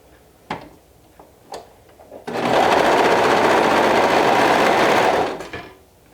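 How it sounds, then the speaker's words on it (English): A serger sewing a 1/4 inch seam runs in one steady, loud mechanical burst for about three seconds, preceded by a few light clicks and taps. "I'm just going to sew it with my serger with 1/4 inch seam allowance"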